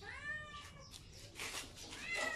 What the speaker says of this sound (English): Our Charlie cat.